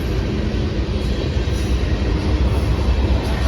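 A freight train with intermodal cars passes at Locust Grove, Georgia, as a loud, continuous rolling rumble of railcars and wheels with a faint high squeal above it.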